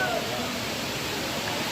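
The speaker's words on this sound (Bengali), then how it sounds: "এটা হচ্ছে ফলস।" A waterfall in Purulia sends muddy water rushing down, heard close as a loud, continuous roar that fills the whole short stretch with no break.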